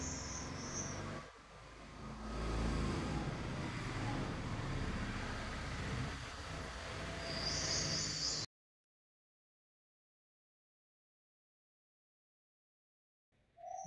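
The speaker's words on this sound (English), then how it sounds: "I just want to reduce the volume when the car is the loudest around here." A car passes loudly near an outdoor interview recording, making a steady, broad road rumble for about eight seconds before cutting to near silence with a faint chirp at the end.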